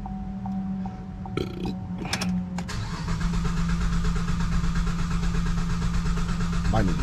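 A 2007 GMC Acadia engine cranks with a few sharp bursts, briefly catches into a rough running roar, then stumbles back toward a steady hum, loud and close.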